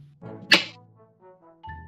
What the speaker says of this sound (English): That's the sound of the knife hitting the counter!